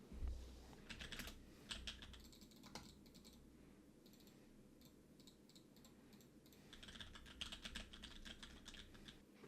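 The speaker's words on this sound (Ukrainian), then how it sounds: "давайте перевіримо, як буде чути клавіатуру і мишку під час гри" Rapid, quiet clatter of keys being typed on a computer keyboard, with mouse clicks, in bursts with brief lulls during gameplay, recorded as a microphone test.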